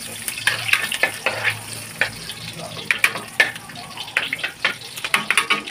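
Onion and garlic sautéing in a hot pan, a crackling sizzle with repeated sharp scraping strokes of a spatula at an uneven rhythm, close and fairly loud.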